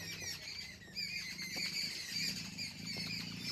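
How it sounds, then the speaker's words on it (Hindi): Several high, chirping bird calls over a steady low rumble, repeated through the whole stretch with no talking. "कितनी अच्छी चिड़ियों की आवाज़ें आ रही हैं चहकने की"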